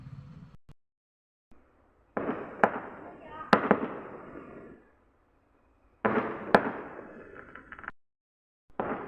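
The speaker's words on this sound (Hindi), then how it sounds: "तो शायद अभी बारात आई होगी, पटाखे फूट रहे हैं।" Firecrackers set off for a wedding procession (baraat) near a house, heard from indoors as two rolling clusters of rapid crackling bursts with sharp pops and gaps of quiet between them.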